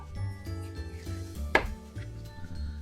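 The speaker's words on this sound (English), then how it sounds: "If they hear me chopping them, they usually come running." A knife chops bell peppers on a cutting board with a few soft, irregular strokes and one sharper thud, close by and fairly quiet.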